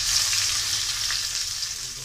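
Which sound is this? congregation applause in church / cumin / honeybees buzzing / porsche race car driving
cumin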